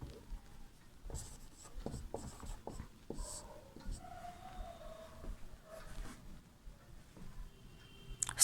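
A pen scratches on paper during a Sanskrit lesson, quiet irregular strokes and taps close by, with short pauses between bursts of writing.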